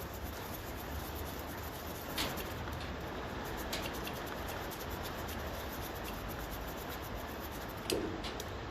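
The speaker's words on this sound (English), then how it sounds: "give where they are attached to a clean up with a bit of sandpaper" Sandpaper rubbed by hand on the electrical contacts of a 1957 Ferguson 35 TVO tractor, a faint, steady, close-up scratching with a few slightly louder strokes and no voices.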